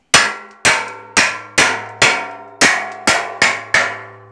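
A hammer knocks plasma-cut steel parts loose on a homemade articulated tractor build, producing nine loud, ringing metallic clangs in a steady rhythm, each tone decaying before the next strike.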